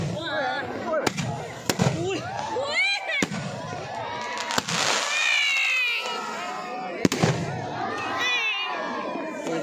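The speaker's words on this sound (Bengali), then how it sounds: "এখন পুরো বাঁশগুলো যতগুলো আছে সব কিন্তু বাজি ফাটবে" Fireworks burst repeatedly at a New Year fair, sharp cracks scattered over a busy backdrop of crowd noise, whistling rockets and a nearby voice talking.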